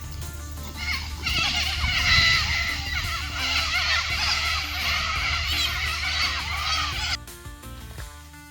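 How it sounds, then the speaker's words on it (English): Cockatoos in the Australian Outback screech in a dense, harsh chorus that fills most of the clip, loud and layered, before cutting off abruptly near the end with a low rumble underneath. "Cockatoos!"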